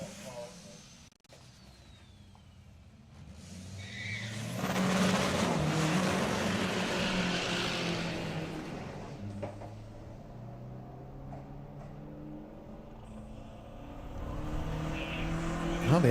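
An Audi drag car with a PD 1.9 TDI diesel engine accelerating hard at a street car drag racing event, its roar swelling and then holding steady beneath loud commentary and crowd noise.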